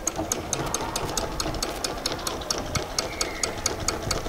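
A sewing machine stitches down the fly piece of a pair of shorts, its fast mechanical rattle running steadily and quietly with regular ticking peaks throughout.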